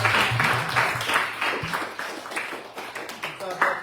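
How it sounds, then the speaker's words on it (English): An audience at a devotional gathering on the Big Island, Hawaii claps in a short, uneven burst beneath someone speaking over the applause. "Good clapping for them."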